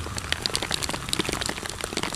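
Heavy, freezing-cold rain pours during a motorbike ride, a dense, loud patter of countless drops hitting close by without a break.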